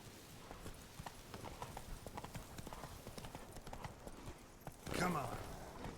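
Roach the horse galloping in The Witcher 3, a fast continuous patter of hoofbeats close by, ending in a louder snort or whinny near the end.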